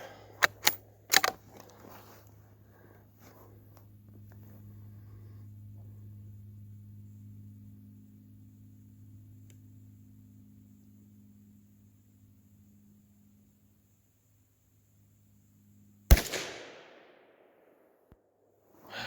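A Savage 93G .22 Magnum rifle fires with CCI and Hornady ammunition: a few sharp cracks at the start, a low steady hum in between, then another loud shot near the end, all outdoors and without talk.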